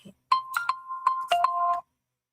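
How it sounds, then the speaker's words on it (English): A mobile phone ringtone plays loudly and close by, a series of bright electronic tones in a quick melodic pattern, heard alone before it cuts off. "My phone just decided to start being loud."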